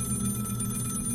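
A telephone rings inside a horror-themed Halloween video game, a steady electronic ring sounding alone at moderate level for a short moment over a low background hum.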